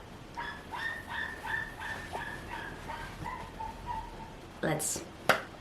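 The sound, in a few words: puppy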